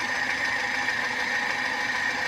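A car engine idles steadily after a carburetor replacement, a loud, even mechanical hum and rattle heard close up with no talking.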